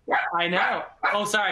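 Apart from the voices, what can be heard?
dogs barking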